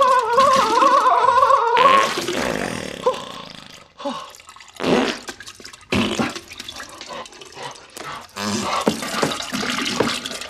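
A cartoon toilet flushes loudly in a SpongeBob scene: a rushing, gurgling swirl of water up close, followed by bursts of splashing and draining with brief gaps between them.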